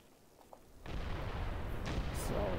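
Mortar fire in the WW2 video game Graviteam Tactics, on the Eastern Front in 1943: a deep blast that swells into a sustained, heavy rumble after a quieter start, with no voices.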